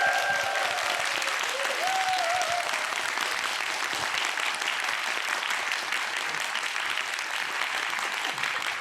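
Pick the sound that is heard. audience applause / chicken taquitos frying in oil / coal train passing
audience applause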